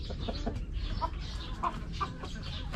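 A group of Rhode Island Red chickens clucks nearby in short, scattered calls over a steady background of barnyard noise, several birds sounding in irregular succession.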